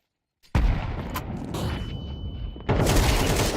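In Counter-Strike 2, a thrown grenade goes off after a moment of silence as a sudden loud blast, and a rumbling roar lingers before a second burst of harsh noise surges in. No one speaks.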